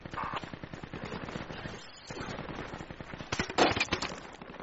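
Rapid bursts of gunfire in the Project Reality military shooter game, with repeated rattling shots in close, dense volleys and one louder cluster near the end.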